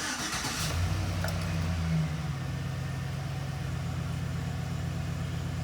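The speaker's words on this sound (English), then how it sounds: "So let's crank it up and see what we got." A 2007 truck with a 5.3L V8 cranks briefly and fires, the starter churn giving way to a steady, loud low idle that holds close and unbroken, with no voices.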